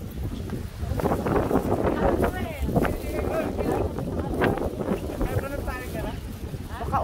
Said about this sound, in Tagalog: Mahangin talaga, oy.